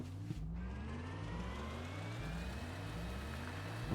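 A tractor vehicle driven in the video game Astroneer, giving a steady mid-pitched engine whir with a low rhythmic pulsing and faint rising tonal whine, close and continuous without speech.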